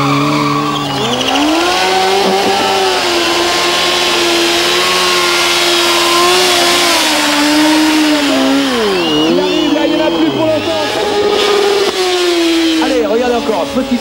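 Motorcycle engine revving hard during wheelie stunts at a tuning show, loud and continuous with rising and falling pitch as the throttle is worked, and crowd noise and a commentator's voice underneath.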